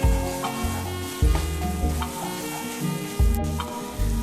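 Nuts simmering in ghee for wheat rava kesari give a steady close sizzle, with low scraping stir strokes and soft knocks recurring every second or two, no voices.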